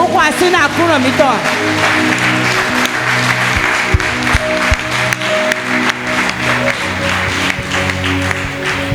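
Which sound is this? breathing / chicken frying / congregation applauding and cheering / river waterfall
congregation applauding and cheering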